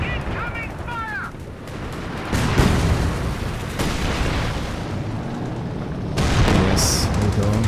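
Incoming artillery fire in a strategy game, with heavy booms and rumbling blasts arriving at about 2.4 and 6.2 seconds amid continuous battle noise, and a voice announcing the event.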